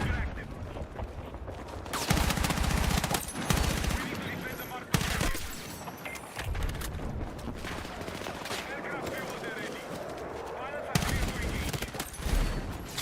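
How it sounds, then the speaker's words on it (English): Rapid bursts of M4 rifle hip fire in the Battlefield 6 video game, loud and close, with brief pauses between volleys over steady in-game battle noise. "Hip fire on the M4 is also insane, by the way."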